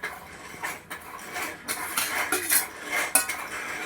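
Prawns going into tomato puree in a cooking pan, heard as repeated metallic clinks and scrapes of a spoon against the pan over a steady low background, close and fairly quiet.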